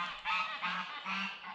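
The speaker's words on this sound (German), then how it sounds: "Seit gestern dürfen unsere Gänse und die Hühner wieder raus." Farm geese out in the open again honk in three or four short, nasal calls in quick succession, fairly close and clear with no talking over them.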